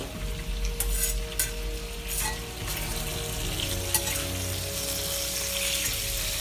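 Bacon frying in a pan gives a steady, close sizzle, crackling and spitting continuously, with a few sharper pops and light scraping sounds on top.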